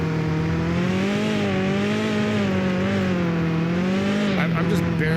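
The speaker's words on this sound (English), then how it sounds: "I'm just barely feathering the throttle here." A car engine in the Mon Bazou video game held under light throttle, a steady buzzing drone that rises and falls slightly in pitch, loud and continuous, with a brief rattling scrape near the end.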